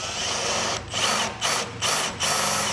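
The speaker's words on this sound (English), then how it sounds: "And this is soft brass is what you're drilling into" A power drill whirs steadily into a soft brass lock on a 1978 Vespa P200E, its motor briefly dipping four times in short pauses before grinding on, close and loud.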